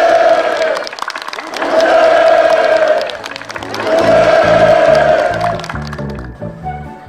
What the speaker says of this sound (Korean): 살림집 입사 모임에서는 참가자들의 열렬한 박수 속에 살림집 이용 허가증이 전달됐습니다